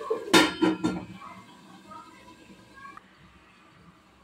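A lid going onto a pot of spiny gourd curry gives a few quick metallic clanks close by, followed by a quieter stretch of low kitchen ambience and faint tonal hum.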